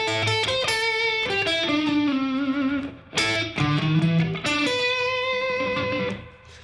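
Electric guitar plays a slow blues lick, sustained bent notes and slides in two bursting phrases with a slightly distorted tone, ringing out at the end with no talk.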